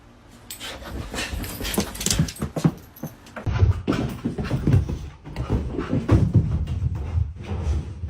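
A dog whimpers and pants close by indoors, in a steady run of whiny, breathy sounds.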